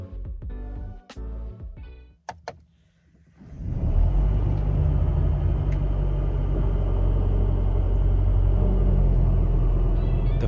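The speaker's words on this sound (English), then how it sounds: "The first thing I noticed when starting the car, after the cool light show, is how loud the engine is." A 2021 Mercedes C200 AMG Line engine fires up after some quiet clicks, settling into a loud, steady rumbling idle close by.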